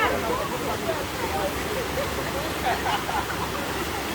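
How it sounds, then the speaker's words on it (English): Steady broadband rush of a large river flowing at a trail crossing in a Dominican rainforest, continuous and fairly loud, with faint voices mixed in. "Final river crossing of the day."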